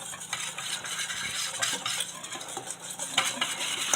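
Homemade adobo sauce with cider vinegar being stirred by hand, a utensil scraping and clinking steadily against the bowl at close range, with no voices.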